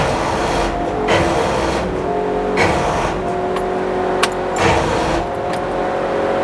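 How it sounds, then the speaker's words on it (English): A 1966 Ford Fairlane 500 cranks on its starter solenoid in repeated loud churning bursts, roughly four pulses with a rough mechanical grind, close up. "Starter solenoid sounds awesome."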